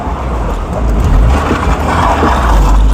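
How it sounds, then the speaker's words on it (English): An MG MGF sports car being driven at night, steady engine and road noise from inside the cabin with a slight rise and fall in revs, no talk. "now I get a chance to try out the MG with the new steering wheel"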